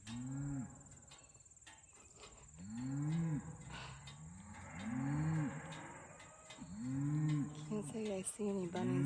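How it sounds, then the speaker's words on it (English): A herd of cows lowing in a field, with several long moos in a row, some close and loud and others farther off, over a constant insect and cricket chorus. "told you there's cows. There's another herd over there."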